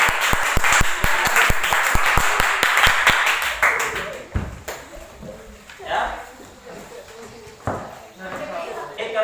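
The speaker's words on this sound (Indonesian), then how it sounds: "Tepuk tangan untuk kita." A school class claps together in a quick burst of sharp, close claps that fades after a few seconds, followed by scattered noises and voices in the classroom.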